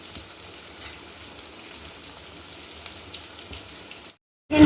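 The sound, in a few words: frying flattened-rice (chira) pakoras in oil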